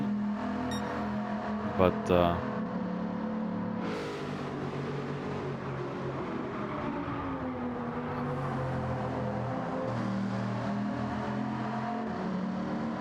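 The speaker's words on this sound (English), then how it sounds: "It's not a very noisy engine, the Bugatti engine" Bugatti racing car engine running on a race track, a fairly quiet, steady engine drone with a brief passing surge, heard under continuous commentary.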